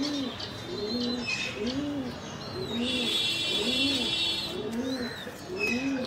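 A pigeon being handled coos repeatedly in soft rhythmic bursts, with chirps and brief rustling or fluttering in between, close by.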